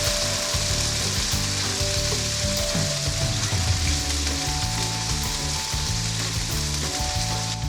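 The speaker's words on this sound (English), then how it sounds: "That aromatic sizzle." Prawns with garlic sizzle loudly in hot oil in a wok while char kway teow is cooked, a dense, continuous frying hiss with the occasional stirring scrape.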